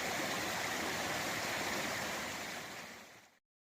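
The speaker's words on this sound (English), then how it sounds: "Just showing a nice stream that we're following down the mountainside towards Erwin." A steady, full rushing of a mountain stream tumbling down a wooded mountainside, loud and close, holding even before cutting off abruptly at the end.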